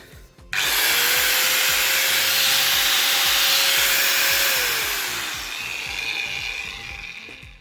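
A small Revolt angle grinder switches on with a sharp start, then runs with a loud, steady high whine for several seconds before winding down near the end.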